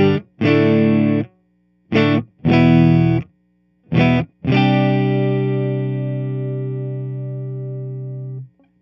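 An electric guitar runs through a pedal board as a MESA/Boogie Highwire pedal is switched in and out, playing loud, sustained chords in short bursts separated by brief silences, ending on a long ringing chord that slowly fades.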